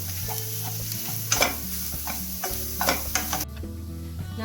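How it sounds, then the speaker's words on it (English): Mashed potatoes stirred and mixed in a hot pan for samosa pinwheel filling, a steady close sizzle broken by scraping stirs and a few louder clanks, with no voices. "Now it's time to add mashed potatoes and mix it well."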